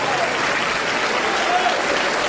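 Church congregation giving loud, sustained applause, a dense continuous roar of many hands clapping with no break.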